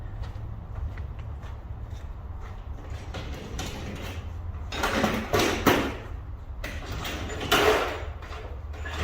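A crankshaft pulley being worked off a Toyota Previa engine with a tool during a front main seal job: steady mechanical scraping and grinding that swells into louder, rough metallic bursts toward the end, close by, with no voices.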